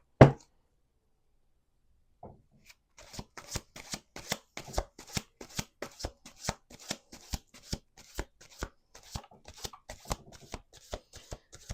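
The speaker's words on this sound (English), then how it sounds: "Let's do two more shuffles." A deck of tarot cards being riffle-shuffled in quick repeated bursts, crisp fluttering snaps after a brief opening tap, close and clear with no talking.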